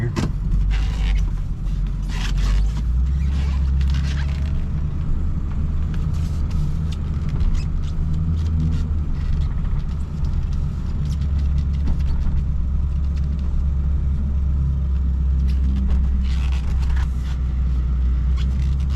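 A truck with a limited slip rear end rumbles steadily as it drives, its low engine drone and road noise continuous and close throughout, with occasional rattles and no voices.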